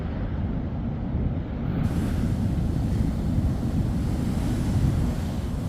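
Ocean surf rolls steadily onto the beach near the St Lucia estuary mouth, a continuous loud wash of waves with heavy wind buffeting the microphone throughout and no voices.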